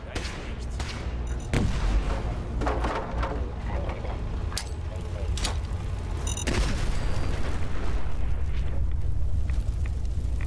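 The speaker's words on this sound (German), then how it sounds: "What an explosion!" A series of booming explosions and bursts of gunfire rumble through a busy Fallout 4 soundscape, sharp cracks recurring every few seconds.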